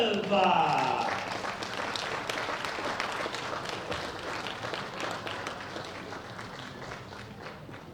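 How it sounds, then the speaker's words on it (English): Dense, steady applause from a crowd at a bench press championship medal ceremony fills the whole stretch, sustained at an even level after a brief voice at the start. "A big round of applause for Olga Golubeva."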